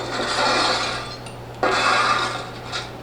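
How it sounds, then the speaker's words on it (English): Glass and cans being picked up and shuffled on a Halloween sound-effects record, a close, steady rattling clink and scrape in two bursts with a brief lull between, with no voices. "Picking up glass and cans"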